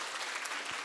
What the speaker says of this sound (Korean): 유성호 교수님께 다시 한번 큰 박수 부탁드립니다